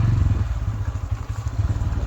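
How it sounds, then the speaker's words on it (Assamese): A Bajaj Pulsar N160 motorcycle engine thrums loudly and close while riding fast, with a low pulsing rumble and rushing wind buffeting throughout. "জোৰে বাইক চলালে মানে আৱাজটো ক্লিয়াৰ নাহে হাৱাৰ চাউণ্ডটো বহুত হয়"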